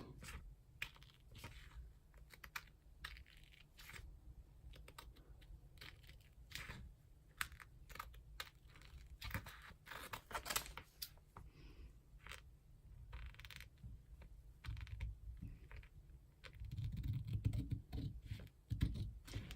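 Scissors snipping through scrapbook paper at close range, a steady run of quick, crisp cuts and rustles, faint overall with a slightly louder burst of handling near the end.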